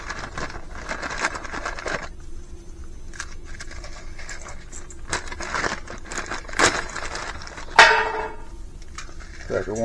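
Crackers being reground for meat loaf give off dry crunching, crinkling and scraping sounds in uneven bursts, with a sharp crackle near the end, close by in a kitchen.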